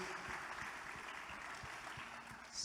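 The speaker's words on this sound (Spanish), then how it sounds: "Bríndele el mejor de los aplausos a nuestro Dios." A church congregation applauds God during a Sunday worship service, a steady, faint wash of clapping that continues evenly throughout without a clear break.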